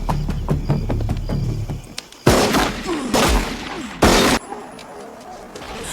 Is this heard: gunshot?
yes